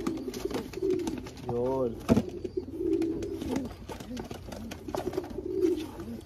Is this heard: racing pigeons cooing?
yes